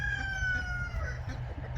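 Farm chickens cluck and crow nearby, one drawn-out call falling in pitch over a low steady background hum, with no talking.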